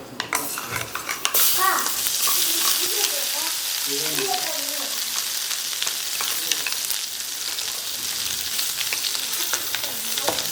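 Hot oil sizzles and crackles loudly as cumin seeds, chili powder and turmeric fry, with a brief burst of stirring at the start and faint voices in the background.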